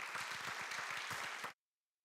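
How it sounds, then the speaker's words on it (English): Audience at a school board regular session applauds Benton Intermediate School, steady clapping from a room full of people that runs evenly for about a second and a half, then cuts off abruptly. "let's first of all give Benton Intermediate School a big round of applause"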